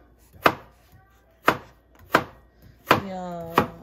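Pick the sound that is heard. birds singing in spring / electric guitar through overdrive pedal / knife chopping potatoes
knife chopping potatoes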